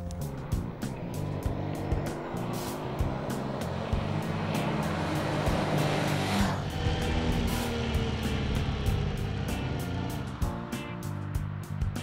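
A Honda Deauville motorcycle rides and accelerates, its engine note rising and falling under strong wind rush, steady and close throughout without speech.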